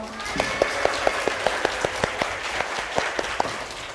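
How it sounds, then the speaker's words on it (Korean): An audience applauding after a talk, with scattered individual claps standing out against a steady bed of clapping, moderately loud and close. "다시 한번 큰 박수 부탁드립니다"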